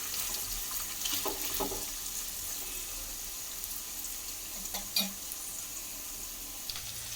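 Chicken pieces frying in oil for chicken pickle give a faint, steady bubbling sizzle with a couple of soft clinks, with no talking.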